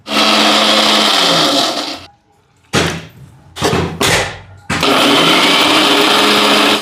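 A mixer grinder blends aloe vera without water, a loud, close, whirring motor running, stopping, giving several short pulses, then running steadily again.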